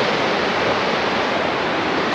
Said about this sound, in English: I don't know if y'all can hear the water and shit